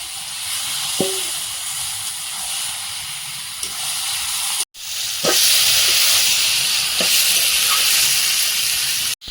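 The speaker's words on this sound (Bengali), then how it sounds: "কষিয়ে নিয়েছি এখন মাংসটা দিয়ে দেবো" Chicken meat frying in a pan with onion and green chili, a steady bright hiss and sizzle throughout with a few faint clinks and no talk.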